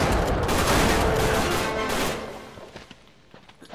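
Rapid gunfire in Uncharted 3: Drake's Deception crackles as a dense, loud burst for about two seconds. It then thins into scattered fainter shots and impacts, with no speech.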